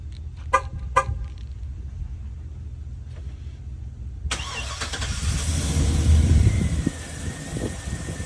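A car engine cranks and catches almost at once after a fuel check valve and Walbro 525 pump install, settling into a steady idle that follows a few short clicks. It is close and fairly loud, with no talk.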